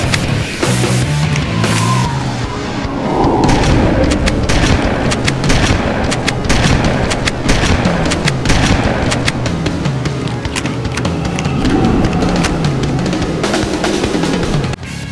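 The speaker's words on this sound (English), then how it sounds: "Since we all know this is a shotgun and it kills in one shot at a certain distance" Shotgun fire in the video game Halo: Combat Evolved, loud and dense, with blast after blast and booming impacts running continuously with no pause.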